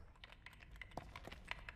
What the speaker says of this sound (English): someone's typing on a typewriter